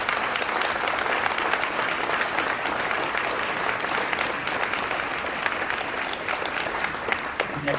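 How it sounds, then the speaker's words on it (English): An audience at a high school honors night applauds a state runner-up team with a full, continuous wash of clapping that holds steady throughout. "Please, a round of applause for the state C2 runner-ups."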